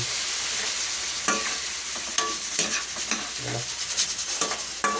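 Shrimp fry in butter and garlic with a constant hot sizzle, broken by several sharp scrapes and clinks of a spatula stirring against the pan.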